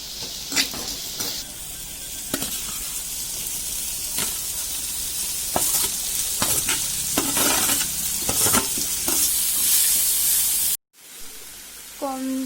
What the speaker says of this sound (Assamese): কম জুইতে অকণমান সময় ভাজি থাকিব লাগিব, সিজালৈকে।